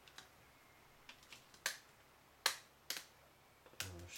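A JiaYu G5S smartphone's plastic back cover snaps shut with several sharp clicks and taps spread over a few seconds, close and crisp against a quiet background, with one final firmer snap at the end.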